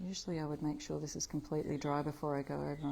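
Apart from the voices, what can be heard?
No distinct noise like a dog, phone or traffic.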